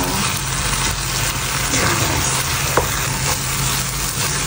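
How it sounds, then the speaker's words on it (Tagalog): Butter is stirred into a cassava suman mixture in a pan over heat, a steady loud sizzle and scraping stir running continuously up close. "Haluin lang natin hanggang ma-mix yung ating butter sa"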